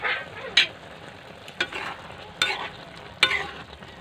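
Adobong takway, taro runners in vinegar, sizzles loudly in a pan with a steady hiss broken by four sharp stirring clicks, close and with no talking.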